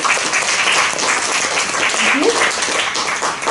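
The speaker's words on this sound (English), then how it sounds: "Let's give them a big round of applause for all of their hard work." A room of people at a seminar give a sustained round of applause, loud and even throughout, with faint voices mixed into the clapping.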